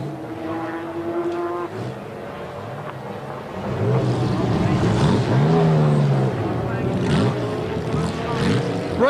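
GT race cars in the 1995 BPR Global GT Series at the Nürburgring pass loudly with engine drones and Doppler pitch sweeps, the sound swelling midway, under a commentator's voice.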